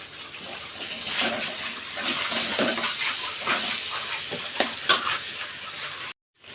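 Mango pieces with a little sugar fry in a pan on a stove while being stirred, giving a steady close sizzle broken by scraping strokes, then a sudden short silence at the end.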